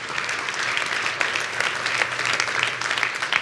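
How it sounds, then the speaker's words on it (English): Convention audience in Las Vegas applauding steadily, a dense wash of many hands clapping at close range that holds evenly throughout without any voices over it. "So give a round of applause for all of you."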